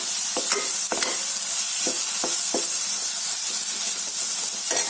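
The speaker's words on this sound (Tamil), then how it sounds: "பிரியாணி மசாலா இது எல்லாத்தையும் நல்லா மிக்ஸ் பண்ணி விட்டுருவோம்" Prawns and biryani masala are stirred in a pan over a low flame, a loud constant sizzle with scattered scraping strokes of the spoon, close up and without talk.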